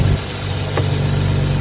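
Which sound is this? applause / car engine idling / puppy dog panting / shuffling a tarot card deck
car engine idling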